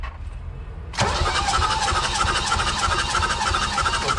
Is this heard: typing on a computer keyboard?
no